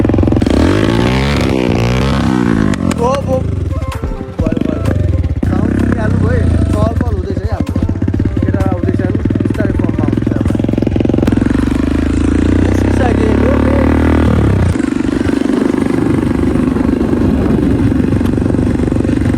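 A dirt bike engine revs and clatters steadily during a ride with a group of friends, close and loud throughout. People talk over the motor the whole time.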